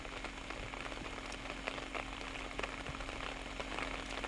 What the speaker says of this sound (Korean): 겨울비가 내리는 날